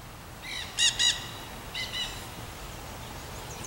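A young Nanday parakeet calls in two quick bursts of raspy chirps, then a softer second pair after a short pause, with faint chirps trailing off in a quiet outdoor setting.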